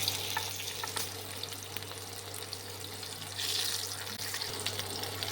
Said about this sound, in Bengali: তেলটা গরম হয়ে গেছে, যে আলুগুলো সেদ্ধ করে রেখেছিলাম সেগুলো হালকা করে ভেজে নেব।